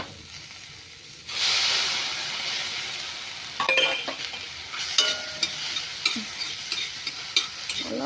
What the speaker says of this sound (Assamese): শুকান কেৰাহীত ভাজি মাত্ৰ ভাজি লৈ